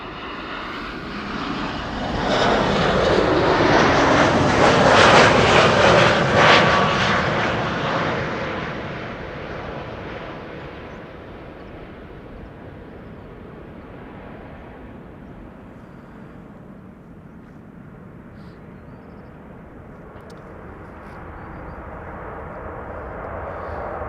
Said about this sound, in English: This is JetBlue A321 Neo arriving from Boston, Massachusetts